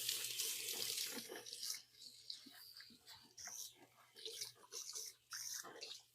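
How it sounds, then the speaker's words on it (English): A kitchen tap runs as a knife is rinsed under it, the water splashing loudly at first and then coming in uneven bursts and gushes, with faint low talk beneath. "I'm going to go wash my knife"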